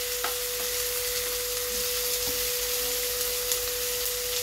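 Jackfruit and shrimp curry is stirred in a pan with a steady sizzle underneath, broken by a few faint utensil scrapes against the pan, all close and even throughout.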